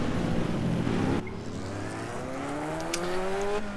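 A car in a racing video game revs its engine with a steady drone whose pitch climbs as it accelerates, close and fairly loud, with a brief shift in tone partway through.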